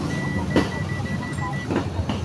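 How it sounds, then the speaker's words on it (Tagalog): A multimeter continuity tester gives a steady, thin beeping tone that repeats in short regular pulses under background noise and faint knocks, while a motorcycle is being checked. "Tapos malalaman mo naman kung may continuity kasi tumutunog."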